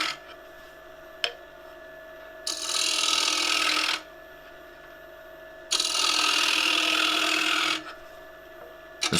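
A woodturning scraper cutting the interior of a wooden succulent pot on a spinning lathe, two loud sustained rasping passes of a few seconds each, separated by the lathe's quieter steady hum.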